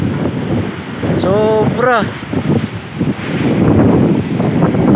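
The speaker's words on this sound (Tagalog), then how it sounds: "lakas ng alon no." Strong waves surge and crash along the shore at Lagen, El Nido, Palawan, under heavy wind buffeting the microphone, with someone speaking briefly over the roar.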